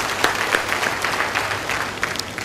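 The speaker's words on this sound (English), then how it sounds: "they deserve a clap," An audience at a LAPFUND annual general meeting claps steadily, a dense, continuous round of applause from a large crowd.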